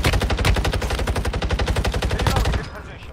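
Automatic gunfire from a weapon in Warzone Mobile rattles in one loud, fast, steady burst for about two and a half seconds, then cuts off into fading rumble.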